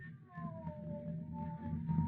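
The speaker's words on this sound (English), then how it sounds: "Thrice the brinded cat hath mewed" A cat meows as a sound effect in a 1940 radio play of Macbeth, a drawn-out, falling mew heard over a low, steady hum of background tones.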